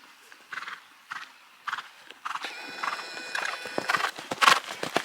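Hooves of a horse landing after a showjump in a riding lesson, with clip-clop steps and a brief whinny amid close, uneven thuds and rustle.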